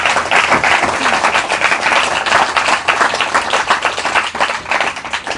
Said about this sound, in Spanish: Dale un fuerte aplauso al Padre en el nombre de Jesús.